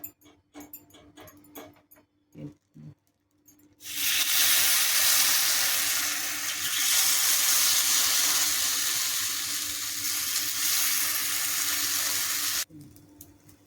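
Sabudana and bhagar appe batter hits an oiled appe pan and breaks into a loud, steady sizzle that holds for about nine seconds before cutting off, with quiet handling noises before and after.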